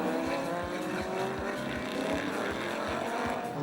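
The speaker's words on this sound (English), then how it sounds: "The train of cars make their way up the hill and into the final complex of bends before the start-finish straight" A pack of historic race cars including Porsche 911s climbs a hill into a series of bends on a circuit, engines droning together with repeated rhythmic pulses, fairly distant and moderately loud.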